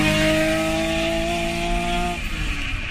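A high-revving engine screams loudly at a steady, piercing pitch, then drops off abruptly near the end as the revs fall.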